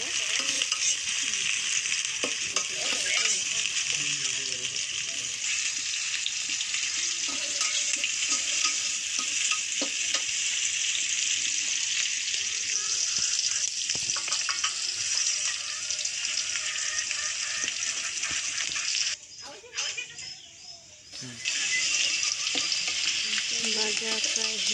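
Ingredients fry in oil in a pot for a dal-and-rice bhuna khichuri, giving a steady, dense, close sizzle with faint stirring that runs almost unbroken, dipping briefly near the end.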